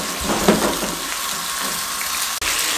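Chicken frying in hot oil on a high flame, giving a dense, steady sizzle that fills the clip, loud and close, with a brief cut near the end.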